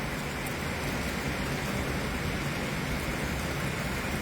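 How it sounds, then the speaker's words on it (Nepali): Heavy typhoon rain in Hong Kong, a dense, unbroken roar of downpour hitting surfaces, loud and constant throughout with wind mixed in and no voices. "यस्तो बाक्लो पानी झऱ्यो कि अहिले यो टाइफुनले ल्याएको।"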